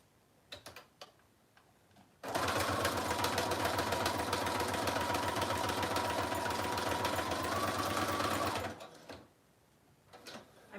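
A sewing machine stitches around the border of a stacked envelope journal in one steady, loud burst of rapid mechanical ticking lasting about six seconds. Quiet handling noises come before and after it.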